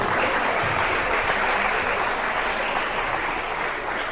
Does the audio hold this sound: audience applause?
yes